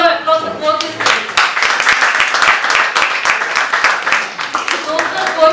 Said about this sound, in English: a big round of applause for both these students